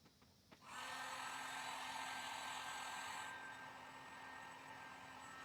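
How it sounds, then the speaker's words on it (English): A heat gun blows nearby while heat-forming foam for a costume alien torso, switching on after a brief click into a steady loud airy roar that drops slightly in level partway through and keeps running. "if you hold your heat gun in one area too long, you will burn your foam"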